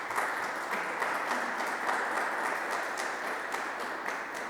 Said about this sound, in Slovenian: Torej, res lahko zaploskamo dvakrat